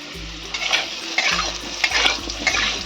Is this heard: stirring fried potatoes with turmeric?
yes